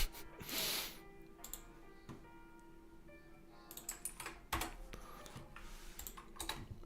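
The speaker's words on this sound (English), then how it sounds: "I know this keyboard that came with this PC is annoyingly loud." Clattering keystrokes on a loud keyboard supplied with a PC, typed in quick irregular bursts close to the microphone, with brief pauses between runs and no talk.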